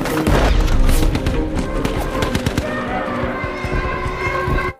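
A war scene from the 2021 film Cherry is filled with loud, rapid gunfire: a dense fusillade of sharp cracks and thumps that stays close and heavy for several seconds before cutting off abruptly.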